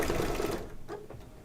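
An embroidery machine stitching a Mother's Day card, a loud, fast mechanical whirring of needle strokes that cuts off partway, leaving fainter clicks and a short tail.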